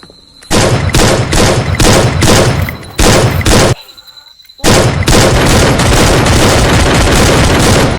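Gunfire in the mobile battle game Free Fire: loud, dense bursts of rapid automatic shots, broken by a short quiet gap midway before the firing resumes and continues steadily to the end.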